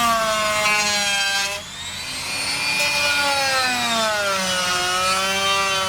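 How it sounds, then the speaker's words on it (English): A high-pitched rotary tool with a sanding bit whines steadily while shaping a mask, its pitch rising and dipping as the spinning bit presses against the material, with a brief dip midway. "next up we're using the sanding bit, just to further get more accurate lines."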